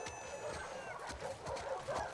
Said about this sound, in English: Lots of doggies.